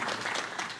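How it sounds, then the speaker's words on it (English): A board meeting crowd applauds briefly, a dense, steady patter of clapping at moderate loudness. "If everyone would kindly give her a round of applause tonight."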